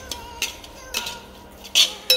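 A spoon or utensil clinks and scrapes against a pan in a few sharp, separate taps while ground cumin and cardamom are stirred into roasted jackfruit seeds, close and fairly quiet.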